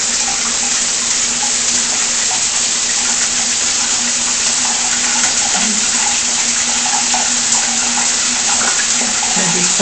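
Water streams steadily from an LED shower head in a bathroom, a constant even hiss that runs throughout, close and fairly loud.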